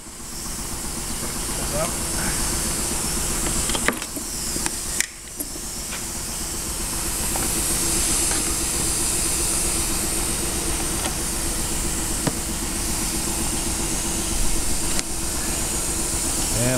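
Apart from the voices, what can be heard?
Weber screw feeder screwdriver system running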